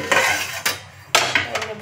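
A spoon scrapes and clinks against a pan and plate while fried rice is served, with two sharp clatters and a few lighter taps, close by and without talk.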